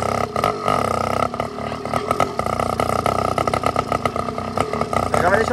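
A motorcycle engine with its exhaust tip removed revs loudly and raspily, rising and falling in choppy bursts close by, with a person talking over it.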